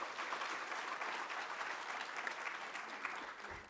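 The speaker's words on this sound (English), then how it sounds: "May we give them a round of applause" Steady audience applause at a seminar on state capture fills the whole stretch, dense and even, from a seated crowd at moderate distance with no talk over it.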